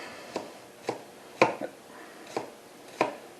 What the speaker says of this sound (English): especially on this garlic, the thinner and finer mince you can do on this, the better